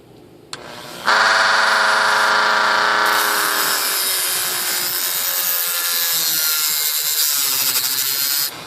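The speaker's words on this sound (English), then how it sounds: "And then got my little Performax Dremel tool type thingy." A small Performax Dremel-type rotary tool cuts into brass, giving a loud, continuous high-pitched grinding whine up close that starts after a brief rev and holds steady for several seconds before cutting off.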